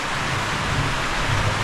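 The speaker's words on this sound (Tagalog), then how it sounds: "Bigla lang umulan mga kaprobinsya oh." Light, sudden rain falling outdoors in a rural yard after several dry days, a steady soft broadband hiss with a faint low rumble underneath, continuous and even throughout with no voices.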